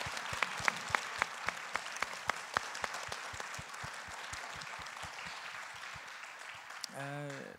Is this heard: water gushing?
no